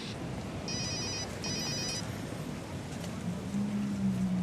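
A telephone rings in two short bursts of bright electronic trilling, heard indoors over a muffled background hum.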